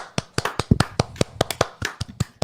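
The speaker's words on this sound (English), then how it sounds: "fast clap." Fast hand clapping, a quick irregular burst of about fifteen sharp claps over a couple of seconds, close and dry with no talking.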